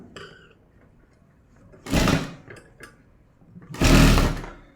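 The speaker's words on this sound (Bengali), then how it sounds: "এখন আমরা ডাবল সেলাই দিব।" A sewing machine stitches a sleeve in two loud mechanical bursts, each about a second long, separated by quiet handling noises.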